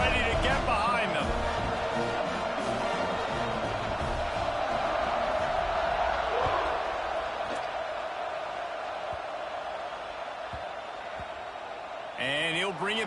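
A football stadium crowd roars and cheers before the kickoff, a broad sustained wall of noise that fades slightly over time beneath a commentator's voice.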